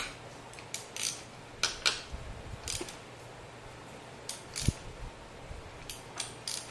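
Wrench working a stuck spark plug loose on a 2007 Ford Focus 2.0, producing scattered faint metallic clicks and ratcheting ticks in short irregular bursts with one sharper knock, no talking.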